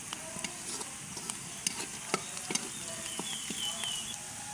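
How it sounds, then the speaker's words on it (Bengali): Garlic, onion and green chili sizzle softly in hot oil with bay leaf and cinnamon, steady quiet frying broken by light ticks and scrapes of a stirring spoon. "আমার কিন্তু রসুন, পেঁয়াজ, কাঁচামরিচগুলো ভাজা হয়ে গেছে। এখন দিয়ে দেবো তেজপাতা আর ডালচিনি।"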